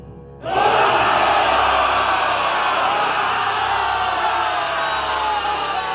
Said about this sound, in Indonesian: Teriakan mereka memecahkan udara.